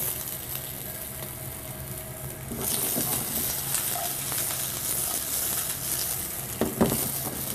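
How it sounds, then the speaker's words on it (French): Vegetables hitting hot oil in a pan for a General Tao chicken dish: a quiet background hiss jumps into a louder, steady sizzle partway through, with a couple of stirring clatters near the end and no talking. "On va mettre un peu d'huile. Comme ceci. On fait saisir les légumes."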